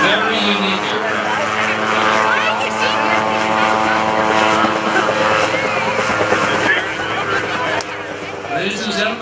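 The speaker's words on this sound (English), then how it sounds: "The Auto Gyro is a rotorcraft, but it is not a helicopter." Snowbird autogyro rotorcraft flying overhead at a rotorcraft festival, a loud, sustained engine and propeller drone with a steady tonal hum, heard under continuous public-address commentary.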